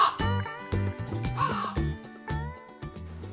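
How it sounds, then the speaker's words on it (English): Harsh crow caws repeat over a soft musical backing in a studio-produced nursery rhyme piece, the calls loud and close, several in quick succession. "instead she heard the sound of a crow"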